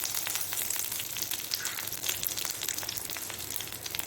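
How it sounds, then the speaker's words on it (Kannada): Curry leaves sizzle and crackle in hot oil, a dense close spattering hiss with quick popping bursts that carries steadily the whole time with no voices. "ಎಣ್ಣೆ ಬಿಸಿಯಾಗುವಾಗ ಇದಕ್ಕೆ ಸ್ವಲ್ಪ 1 ಎಳೆಯಷ್ಟು ಕರಿಬೇವಿನ ಸೊಪ್ಪನ್ನು ಹಾಕೊಳ್ಳೋಣ"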